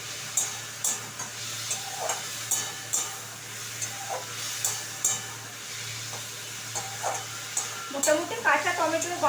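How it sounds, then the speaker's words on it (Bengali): Chopped tomato frying in a pan while being stirred, a low continuous sizzle broken by regular sharp clicks and scrapes of the spatula, with a brief burst of busier sizzling near the end. "টমেটোটা দিয়ে আমি একটু নেড়ে নেব।"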